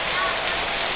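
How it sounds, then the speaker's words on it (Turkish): Steady rain falls in an unbroken, dense hiss, close and fairly loud, with no separate drops or other sounds standing out. "Ama çok güzel bir yağmur var."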